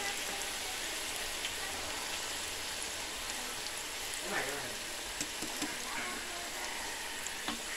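Seafood egg rolls fry in hot oil on a stove, giving a steady, dense sizzle with occasional soft pops and faint clinks, and no talk over it.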